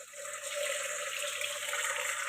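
Running tap water pours steadily into a vessel for washing millet in a home kitchen, a continuous close splashing hiss with no voices over it.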